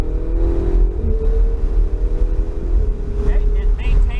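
A Corvette engine accelerates on a track course marked by cones, a loud close drone with the pitch climbing and shifting, while a voice speaks over it.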